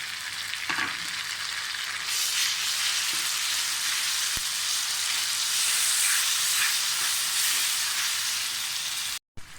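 Two tomatoes frying with garlic and ginger in a pan for daal: a loud, continuous hissing sizzle that swells after the first couple of seconds, with a brief clack and a sudden cutoff near the end.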